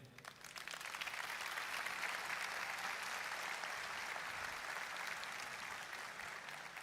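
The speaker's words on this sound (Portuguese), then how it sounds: "Salva de palmas para ele." A crowd at a business talk claps steadily in sustained applause, fairly distant and even, without a break.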